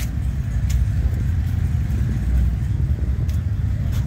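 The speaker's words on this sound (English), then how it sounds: "These are just regular people riding in on these bikes right here." Motorcycles riding in at an outdoor tattoo-shop bike show give a steady, loud low engine rumble that holds without a break.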